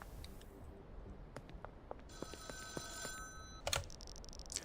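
A payphone rings in the video game Schedule 1, giving a bright electronic telephone trill that starts partway through over quiet game ambience with scattered soft clicks.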